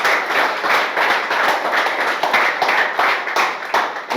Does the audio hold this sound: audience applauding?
yes